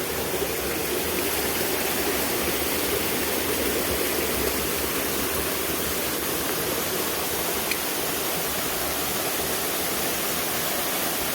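A waterfall at Khun Huai Sang in a cool forest valley, with water trickling down over rock, makes a steady, dense rushing roar that stays even throughout with no voices.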